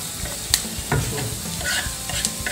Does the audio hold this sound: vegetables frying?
yes